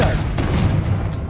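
A Confringo blasting spell goes off in Hogwarts Legacy as a single deep, loud boom with a rumbling low body that fades over about a second.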